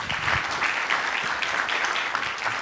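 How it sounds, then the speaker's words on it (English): Dense applause from a conference audience, even and sustained at moderate loudness, with no voices over it. "So we all, I think, deserve a round of applause."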